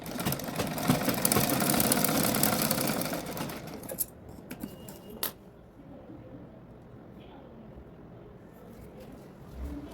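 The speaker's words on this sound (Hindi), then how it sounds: "डबल सिलाई लगा लेंगे।" A sewing machine stitching a double seam on a blouse, a loud rapid mechanical whir for about four seconds that stops abruptly, followed by a couple of short bursts and a quiet room.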